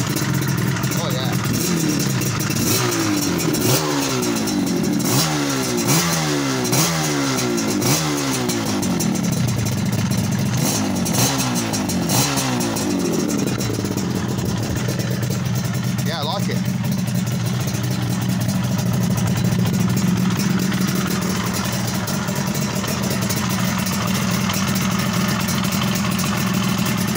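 A Yamaha LC motorcycle engine with newly fitted aftermarket expansion-chamber exhausts revs repeatedly in quick rising bursts, then settles into a loud, throaty idle that rumbles steadily close by.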